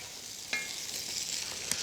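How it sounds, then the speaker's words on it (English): Potatoes sizzle steadily in a pan of hot fat and water for a Malaysian-Indian style potato curry, a close, continuous frying hiss with a couple of sharper crackles and no talking. "Make sure your potatoes are sizzling."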